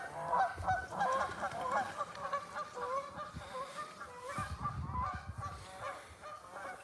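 A flock of geese honks continuously at a moderate distance, many overlapping calls forming a noisy chorus.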